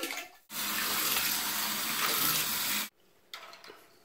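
Water gushes steadily from a tap for a couple of seconds, loud and close, while a cockatiel's water is changed, then cuts off abruptly, leaving a few faint clatters.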